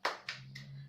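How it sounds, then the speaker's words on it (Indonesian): A class of schoolchildren clapping a rhythmic cheer: three sharp, evenly spaced claps about a quarter second apart, close and crisp, with a faint low hum underneath and no voices. "Kita tepuk semangat dulu ya"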